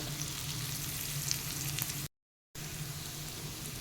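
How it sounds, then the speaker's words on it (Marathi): Vegetables sautéing in a pan for butterfly pea flower fried rice, a steady close sizzle and frying hiss that runs unbroken apart from one brief cut to silence partway through. "अजून आपण दोन तीन मिनटं छान परतून घेऊयात"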